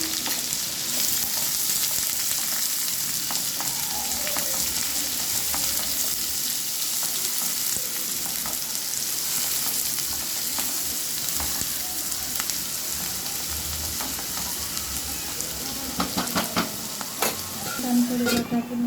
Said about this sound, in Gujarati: હવે આપણે એની અંદર નાખી દઈશું ઝીણી કાપેલી ડુંગળી,